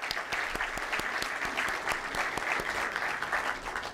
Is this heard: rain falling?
no